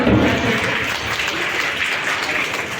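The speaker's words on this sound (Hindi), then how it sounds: "तालियों के साथ स्वागत" A crowd at a justice conference in Patna gives steady, dense applause to welcome guests, the clapping loud and continuous throughout the short stretch.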